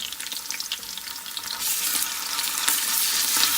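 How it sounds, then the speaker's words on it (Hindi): Garlic paste and green chillies hit a pan of browned onions, hissing and sizzling steadily up close with light stirring, the frying growing louder partway through. "अब मैं इसके अंदर लहसुन, ये जो लहसुन का पेस्ट था और साथ ही हरी मिर्ची ये डाल दूंगी।"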